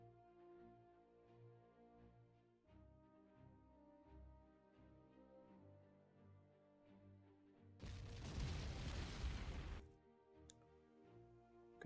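Artillery support fire in the Panzer Corps strategy game lands as one heavy rumbling barrage lasting about two seconds over quiet game music with soft ticking.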